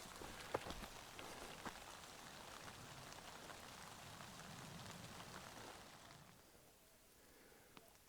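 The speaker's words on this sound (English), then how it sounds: "now it's starting to rain pretty hard" Heavy rain pours steadily on the Pacific Crest Trail, a dense hiss of drops on surfaces that eases slightly toward the end, with a couple of sharper taps.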